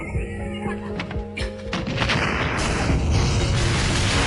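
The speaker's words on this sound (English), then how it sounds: "After a series of explosions" Bundles of explosives thrown into a study room go off in a rapid series of sharp booms and crashes, building into a dense, continuous rumbling roar.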